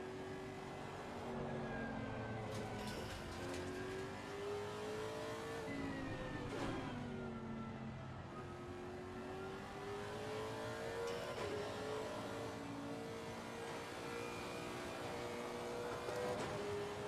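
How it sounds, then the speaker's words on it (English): A race car engine revs in Assetto Corsa Competizione, a continuous aggressive engine note rising and falling through gear changes, loud and close, with no talk. "It's got a beautiful sound to this engine. It sounds really nice and aggressive."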